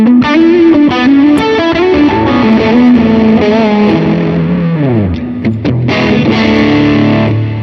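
Electric guitar played through a Vox AC30 amp plugin with delay and reverb, a driven, slightly distorted tone carrying chords and melodic lines with sliding bends, loud and continuous throughout with echoing tails.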